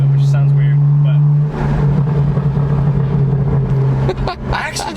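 Deep droning exhaust note from a straight-piped BMW M2 with a Stage 1 Bootmod3 tune, a steady low idle hum that turns into a rougher, louder rumble as the engine is revved; heard from inside the car.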